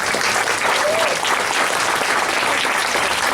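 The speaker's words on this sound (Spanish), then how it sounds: "Un aplauso para Fernando." An audience at a Spanish-language book presentation applauds the student Fernando Luque, with dense, continuous clapping from a full room that holds steady throughout.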